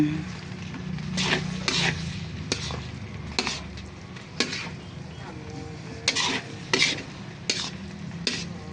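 A utensil stirs boiled palabok noodles in a pan, giving soft scraping strokes and sharp clinks against the metal at an irregular pace, with a faint sizzle underneath and no voices.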